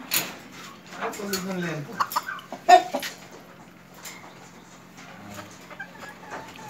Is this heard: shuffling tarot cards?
no